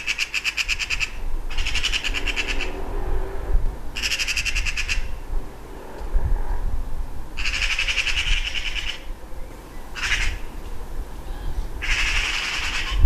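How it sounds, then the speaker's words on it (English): Magpies in a garden give harsh, repeated chattering calls in several bursts spread over about thirteen seconds, reacting to a cat nearby, with steady background noise and no talk. "the magpies are reacting to it all day"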